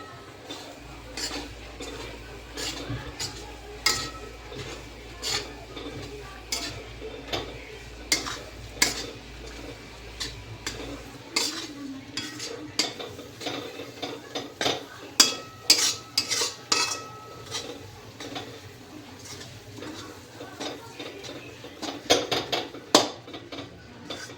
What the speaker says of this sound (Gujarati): આપણે લો આ બધો લોટ એમાં એડ કરી દઈશું અને જે આપણે હાઈ ફ્લેમ હતી એ ફ્લેમ લો કરી નાખશું અને આને હલાવશું